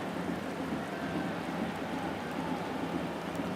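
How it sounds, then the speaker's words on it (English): Heavy rain pours down steadily over a football stadium during a J-League match between Yokohama F. Marinos and Hokkaido Consadole Sapporo in Japan, a dense, unbroken hiss of falling water filling the whole moment without any voices. "The rain getting no easier."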